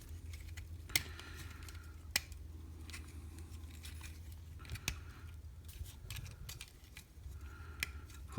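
Plastic parts of a Transformers Combiner Wars Deluxe Class Blast Off toy being folded and snapped into place, giving a few sharp, isolated clicks spread over a quiet stretch with a low background hum.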